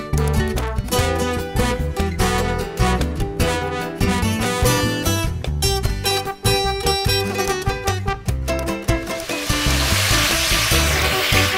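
Vegetables with soya chunks, cubed onion, tomato and garlic, frying in a wok for chilli soya, with a steady loud sizzle and clattering stirring throughout.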